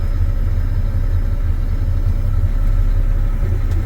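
A truck engine runs steadily at a low rumble as the vehicle rolls to a stop with no fuel during an air brake test, the sound close and continuous with no talking.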